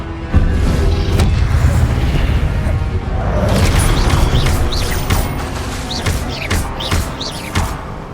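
A Confringo fire spell blasts in Hogwarts Legacy on PS5, with loud booming bursts landing over a continuous roaring rumble. Scattered crackles and clatter run through the combat noise.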